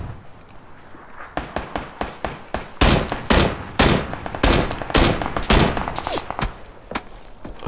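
PUBG gunfire rings out as a string of sharp, loud shots, first a spaced series of single cracks, then heavier, faster reports, with faint background noise between them.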